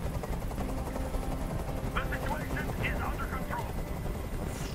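A helicopter circling overhead in the video game Detroit: Become Human, a steady loud rotor drone filling the scene, with a few brief chirpy sounds partway through.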